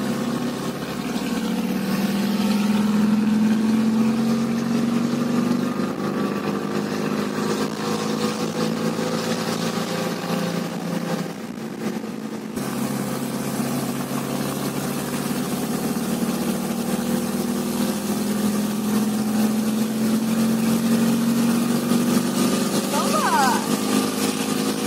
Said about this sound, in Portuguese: Pediu pra gente dar umas aceleradinhas aí no Fusca.